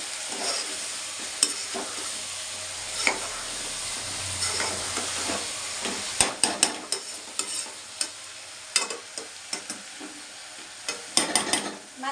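Ridge gourd pieces go into a pan of hot oil for a prawn-skin curry and are stirred, giving a bright sizzle with a run of sharp spoon-against-pan clacks growing busier toward the end, close and unvoiced.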